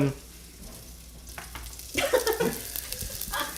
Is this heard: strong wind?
no